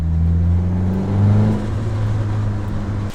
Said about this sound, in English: You can hear the turbo just coming on.